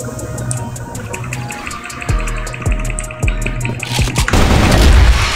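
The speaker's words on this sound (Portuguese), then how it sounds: "Granada dele da segunda guerra." In a World War II–style shooter game, several heavy booms go off one after another amid engine rumble and scattered gunfire, ending in a big, loud blast.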